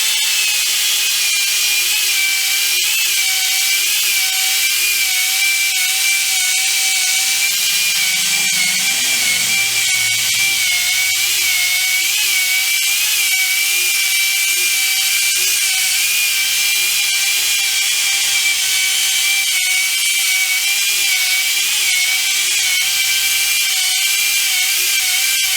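A Triumph 500 Otter part is sanded with 800 grit, giving a continuous, even hissing whir that runs loud and unbroken throughout.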